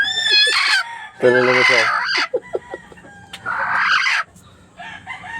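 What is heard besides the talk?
hen clucking after laying eggs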